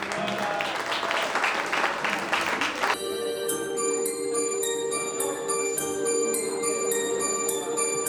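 Loud applause at a sangeet night wedding celebration as a duet is called to the stage, a few seconds of crowd clapping that cuts off as bright, ringing bell-like music tones begin and continue.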